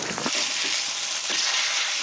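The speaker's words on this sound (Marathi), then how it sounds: "दोन्ही साईडनी व्यवस्थित भाजून घ्यायचं आहे." Pomfret fish frying in a pan, a steady close hiss of sizzling oil with a few soft scrapes from turning the fish, no voices.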